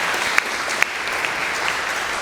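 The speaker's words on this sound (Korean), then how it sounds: "축하의 박수 한번 드리겠습니다." A church congregation claps in celebration, a dense, steady wash of many hands applauding together, loud and even throughout, with a few sharper individual claps standing out.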